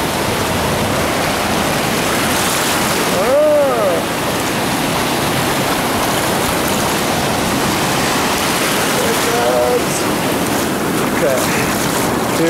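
Ocean waves wash onto the shore in a loud, continuous rush of surf heard up close. A few faint voice-like sounds come through underneath.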